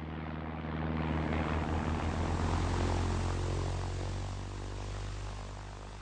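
Loud propeller engines of firefighting airplanes drone overhead, a broad roar that swells and slowly fades as the planes pass, with no other sounds.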